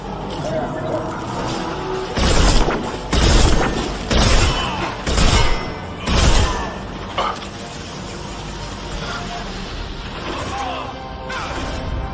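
Grenade blasts and battle noise in the video game Mass Effect come as a series of heavy booming thumps in quick succession, followed by lighter combat sounds and faint voices.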